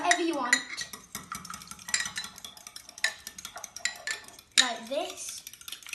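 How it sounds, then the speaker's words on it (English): A fork whisks eggs in a bowl for cooking, giving a steady run of quick metallic clinks and scrapes against the bowl, close and fairly loud, with a brief voice near the start. "Now you can mix it with a fork or whatever you want."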